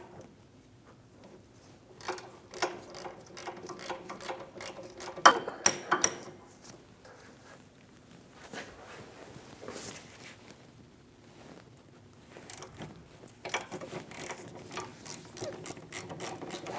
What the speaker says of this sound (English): Using an 18mm socket, we're going to remove the 2 caliper bracket bolts.